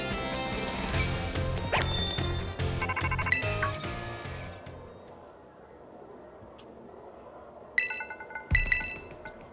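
A phone rings in the Pokemon Scarlet video game, a bright electronic tone repeating in short bursts over quieter game music, fading before a few sharp hits near the end.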